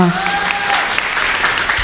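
Audience applause at a company event honouring its owners, a busy wash of clapping heard close, with a voice briefly audible at the start and some talk layered over the clapping.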